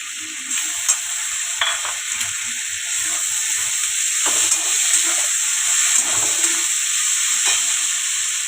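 Ginger and chili paste frying in a pan with fried elephant foot yam, turmeric and salt: a steady, loud sizzle and hiss runs throughout, broken by soft stirring scrapes.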